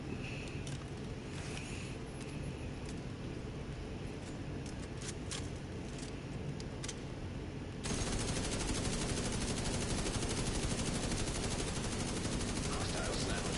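Automatic gunfire in The Division 2, with rapid bursts of shots and game effects that become loud, dense, continuous firing for the second half.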